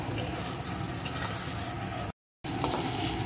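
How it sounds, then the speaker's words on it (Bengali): Spices with green chilli, turmeric powder and salt are sautéed in a pan, giving a close, continuous sizzle with a brief silent break before it resumes. "এখন সমস্ত কিছুকে ভালো করে বেশ কিছুক্ষণ কষিয়ে নেব"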